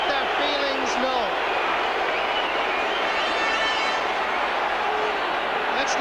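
A big Kilkenny crowd in Croke Park at an All-Ireland hurling match roars and jeers in a dense, sustained wash of noise, with overlapping voices and whistles lifting out of it now and then.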